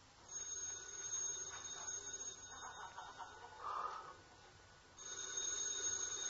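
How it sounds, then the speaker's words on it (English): An old-fashioned telephone bell rings inside a dark, quiet house, a faint repeated trilling ring in bursts with a pause between, heard from a distance. "The telephone's ringing."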